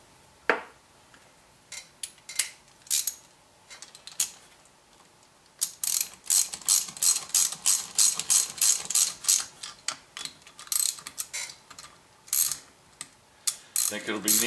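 Old hand-crank forge blower being turned, giving a rapid ratcheting, gear-like clatter in quick rhythmic bursts. It starts sparse, then speeds up into a dense run, close and moderately loud.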